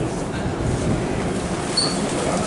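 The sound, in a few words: Saint Petersburg metro train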